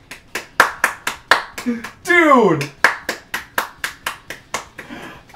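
Steady rhythmic hand clapping, about a dozen sharp, close claps, celebrating a NASCAR 08 pole qualifying run; the clapping stops briefly for a loud excited shout, then resumes at the same even pace.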